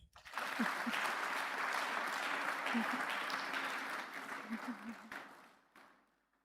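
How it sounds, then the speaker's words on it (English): Graduation audience at a business school ceremony in Lagos claps steadily, a dense sustained patter of many hands from a distance, fading out at the end, with faint voices underneath. "Please, let's keep clapping."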